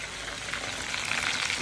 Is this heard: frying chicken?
yes